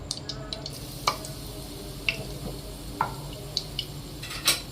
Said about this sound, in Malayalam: അത് ചൂടായി വരുമ്പോൾ നമ്മൾ ഈ ചതച്ച് വെച്ച മുഴുവൻ മസാലകൾ അതിലേക്ക് ഇട്ട് കൊടുക്കാം